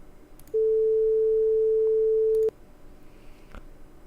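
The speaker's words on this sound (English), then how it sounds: "And that's your middle A sound." A steady pure tone at middle A, generated by the tone function in the Desmos graphing calculator, holding for about two seconds at an even level over a faint background before cutting off cleanly.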